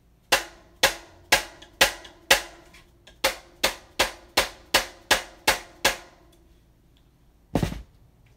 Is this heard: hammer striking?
yes